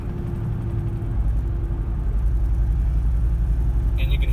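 Steady low rumble from a car cruising at 70 mph with a sticking brake caliper, heard from inside the cabin as a constant loud drone with road noise throughout.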